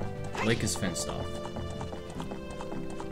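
Horse hooves clip-clop at a steady trot in the Nintendo 64 game The Legend of Zelda: Ocarina of Time, a quick even patter under game music, with people talking over it.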